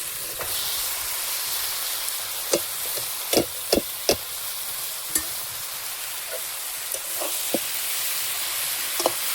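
Spinach goes into a pan sizzling with tomato and spices, a steady loud hiss of frying with a few sharp clicks and taps of a utensil scattered through it.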